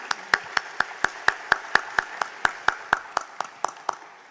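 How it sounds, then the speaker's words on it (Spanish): At a citizens' meeting with a women's brigade, steady, evenly spaced claps ring out in a slow synchronized rhythm, about four per second, crisp and close. "Fuerte el aplauso para ella"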